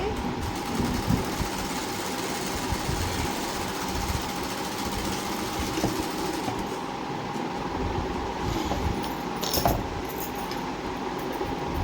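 A sewing machine runs continuously while stitching a blouse lining, a close, steady mechanical whir and rattle with small clicks, under a voice.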